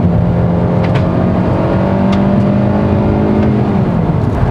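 A 2022 Kia K3 facelift with a 1.6-litre Smartstream gasoline engine and IVT continuously variable transmission accelerates, its engine a loud, steady close drone that climbs gently and holds without gear-shift breaks.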